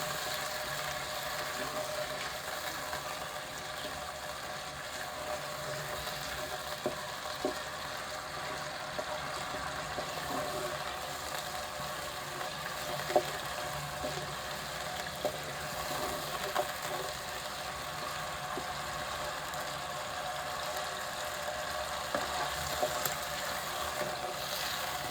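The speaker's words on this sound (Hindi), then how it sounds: "1 से 2 मिनट तक चिकन को अच्छी तरह हम इस तरह तल लेते हैं, ताकि चिकन की हीट खत्म हो जाए" Chicken frying in a pan for a chicken and capsicum dish: a steady, soft sizzling hiss that runs unbroken, with faint crackles and pops scattered throughout.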